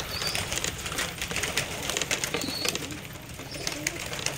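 Pigeons eating mixed grain feed, with soft pecking and clicking, cooing and occasional wing flutters, close and fairly quiet with no talk.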